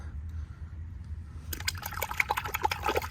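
Rinseless car wash concentrate, coming out in glops, is poured into a bucket of warm water: a quiet low hum, then splashy, gurgling liquid plops and trickles in the second half.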